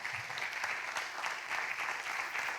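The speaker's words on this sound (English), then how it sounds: "I think it deserves a big round of applause" Steady applause from an audience celebrating a first printed book, dense clapping filling the room evenly and moderately loud from start to finish, with no voices standing out.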